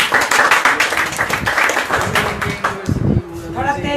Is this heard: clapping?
yes